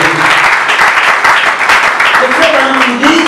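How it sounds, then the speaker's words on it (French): A church congregation applauds loudly at a sermon gathering, steady dense clapping from many hands filling the room, with a preacher's voice and crowd noise running over it. "Applaudissez pour la parole"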